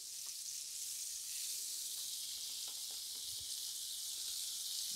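Butter sizzles in a frying pan under a grilled cheese sandwich, a steady, close, even hiss and crackle that stays constant throughout without any speech.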